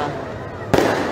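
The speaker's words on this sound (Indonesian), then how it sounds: "itu dia semarak kembang api menyambut tahun baru 2023" New Year 2023 fireworks over the Margonda sidewalk in Depok, a sharp loud burst cutting in midway over a steady crowd rumble, with voices in the background.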